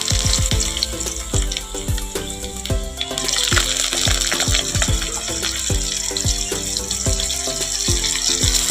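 Potatoes tipped into hot mustard oil tempered with dried red chillies and five-spice seeds, giving a loud, continuous frying sizzle that swells and thickens after a few seconds, with no talking.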